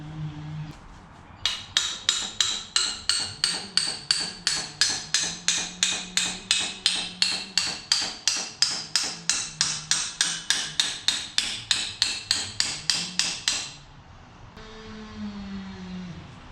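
Caps are tapped into place on the front suspension of a Raptor 250, a long run of about thirty-five evenly spaced sharp hammer taps, loud and close, with no voices.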